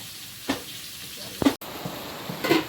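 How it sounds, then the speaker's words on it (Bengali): Fish and eggplant fry in a pan with a steady, close sizzle, punctuated by a few sharp utensil clatters and stirring scrapes, while soft voices murmur in the background. "ওদিকে মাছগুলো ভেজে বেগুনটা ভেজে নিচ্ছে"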